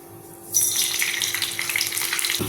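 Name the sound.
mustard seeds and fenugreek sizzling in coconut oil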